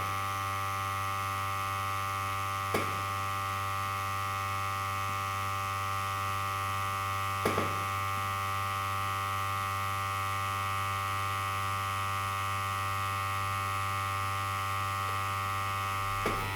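A tattoo machine buzzes steadily and evenly while filling in lettering on skin, a constant close electric hum with a couple of brief clicks or bumps along the way.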